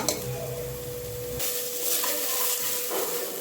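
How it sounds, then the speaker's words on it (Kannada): Cabbage frying in oil for drumstick sambar sizzles loudly and close, with soft stirring and a pan-handling clank as the sound shifts partway through, no talk. "ಸ್ವಲ್ಪ ಹೊತ್ತು ಇದು ಫ್ರೈ ಆಗಬೇಕು"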